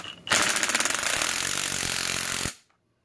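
A DeWalt Xtreme sub-compact 12V brushless 3/8-inch impact wrench hammers on a lock nut, a loud, dense rapid rattle lasting about two seconds before stopping abruptly, with no talking.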